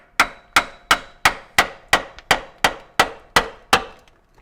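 A metal scraper is hammered into the seam of a 1997 Jeep TJ Wrangler rear differential cover, giving eleven sharp, evenly spaced clangs, each ringing briefly and decaying before the next blow, loud and close with no talking.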